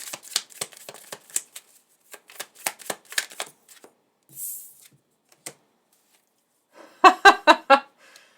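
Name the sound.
tarot cards being shuffled to draw one card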